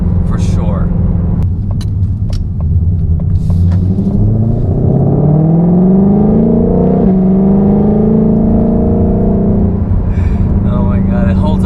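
A 760 hp Ford Mustang Shelby GT500 roars from inside the cabin as it holds a gear, revs climbing in a long rising pull before easing back, with occasional voice sounds over the engine.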